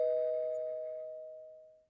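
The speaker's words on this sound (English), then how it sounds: "I'm hearing the doorbell." A single electronic doorbell chime rings out clearly as a steady pure tone that slowly fades away, with no voices over it.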